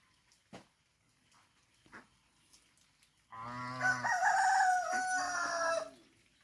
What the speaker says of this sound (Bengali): এই যে এখানে দেশি মোরগ বলে এগুলো, অনেকে মল্লাও বলে